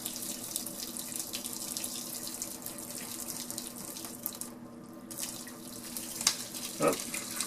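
Curds and whey from a home cheese-making kit are poured from a heavy pot, giving a continuous splashing, sink-like stream of liquid that runs steadily at close range with a few small plops near the end.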